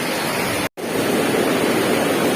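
Steady broadband roar of river rapids at Riam Peneng on the Mantikei River in Kalimantan, a constant rushing wash with one brief dropout, heard close and alone.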